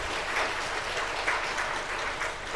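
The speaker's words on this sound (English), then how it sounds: "I want you to give him a round of applause" An audience claps steadily for an economist at a law, politics and economics event, a dense, even roar of applause heard from within the hall throughout.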